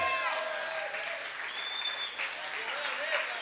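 Church conference audience applauding steadily, a broad wash of clapping at moderate distance with faint voices mixed in.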